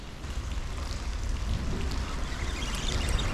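Steady rain patters on a surface nearby while shore fishing for perch, a constant hiss with scattered drops tapping louder now and then.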